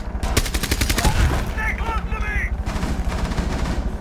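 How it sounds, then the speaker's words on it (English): Rapid in-game gunfire in Rainbow Six Siege, a burst of quick automatic shots followed by more scattered rounds, loud and close, with faint movement sounds between. "He's right there shooting at me."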